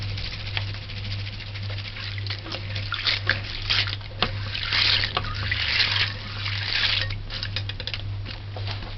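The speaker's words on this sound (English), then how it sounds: "just rinse it a little with a little white vinegar, like a drop or 2 of white vinegar, and just rinse it" Mixed dry beans rinsed under running water with a drop of white vinegar, giving a steady trickle and patter of water with occasional rattles of beans, continuous and close throughout.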